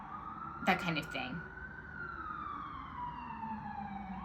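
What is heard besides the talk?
ambulance siren passing outside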